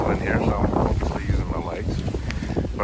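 A headwind buffets the microphone in loud, gusty rumbles on a Jackson Cruise FD pedal kayak out on open water, while a person talks through the blustering noise.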